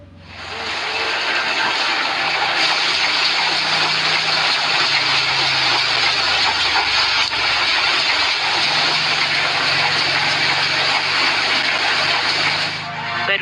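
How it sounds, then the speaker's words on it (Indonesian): A special machine prints serial numbers onto nearly finished banknotes in a currency printing works, giving a loud, steady mechanical roar and hiss that runs unbroken throughout. "Uang yang hampir jadi ini masih harus diberikan nomor seri dengan mesin khusus."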